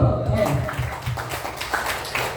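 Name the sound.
class applause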